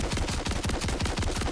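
Haymaker auto shotgun with incendiary ammo firing in Modern Warfare 3 Zombies, a rapid, loud run of blasts in steady rhythm across the whole burst, close and dense with no talking.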